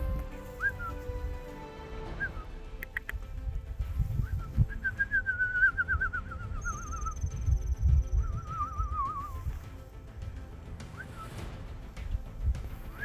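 Several short whistling calls from marmots, some wavering and some sharp and high-pitched, ring out over a low rumble of outdoor background noise at Mormon Row.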